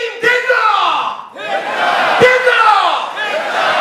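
A rally crowd chants a campaign slogan for the Jeju candidate Moon Dae-rim, loud and close. Two surging shouted phrases come with a burst of cheering and no single voice standing out.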